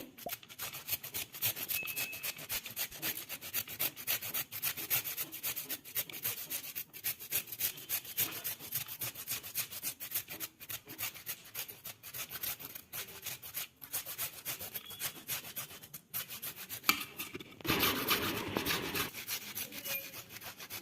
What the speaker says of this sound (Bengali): একটা গ্রেটারের সাহায্যে গ্রেট করে নিচ্ছি।